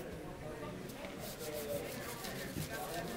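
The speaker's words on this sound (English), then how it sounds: "You got to run the knife up the fillet." A knife sliding along a striped bass fillet to strip off the skin, a soft close scraping rub in short repeated strokes, quiet and steady.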